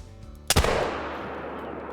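A muzzleloader rifle firing minié balls in the hunting game Call of the Wild: one sharp, loud gunshot with a long rolling echo that slowly fades over a quiet outdoor ambience.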